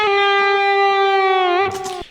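A Donner DST-550 electric guitar played through distortion and delay sustains a single loud held note that bends slightly near the end and then cuts off.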